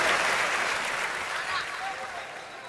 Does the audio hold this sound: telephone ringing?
no